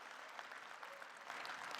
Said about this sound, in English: Let's have a round of applause for the Institute and for Dr.